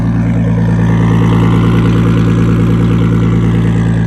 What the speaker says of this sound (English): that's a full custom aluminum exhaust